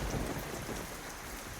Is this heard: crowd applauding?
no